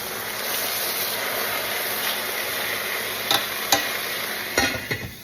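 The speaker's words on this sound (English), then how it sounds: "But we're going to stir it up." Food being stirred in a pot over a steady, close sizzling hiss, with a few sharp utensil scrapes and knocks near the end.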